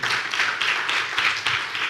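A church congregation claps loudly together in praise, a dense burst of applause with rhythmic swells that carries on steadily, crowd noise filling the room.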